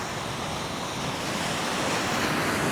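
Rough ocean waves crash and churn against shoreline rocks during rock fishing in heavy swells, a loud, unbroken roar of surf with gusting wind noise across the microphone, no speech.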